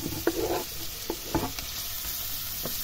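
Onions and small bacon lardons sizzle in foaming butter, a close, constant frying hiss with a few sharp crackles and stirring scrapes near the start.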